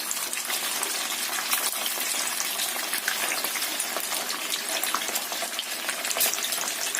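Food sizzles and crackles steadily in hot oil in a wok over medium-low heat, a dense, continuous frying hiss close up with no talking.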